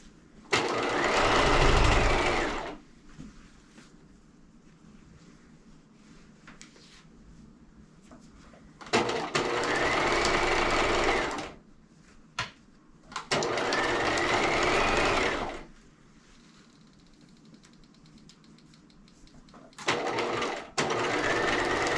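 A sewing machine back stitches a doll bodysuit, running in three loud sustained bursts of rapid stitching separated by quiet pauses, with a short fourth burst at the end.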